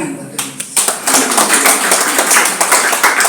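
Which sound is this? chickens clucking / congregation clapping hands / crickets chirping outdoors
congregation clapping hands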